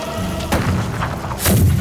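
Bombing explosions from a war drama: a deep boom strikes about halfway through, then a louder, heavier blast near the end, each with a rumbling low tail.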